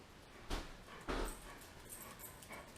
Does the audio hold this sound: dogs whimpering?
yes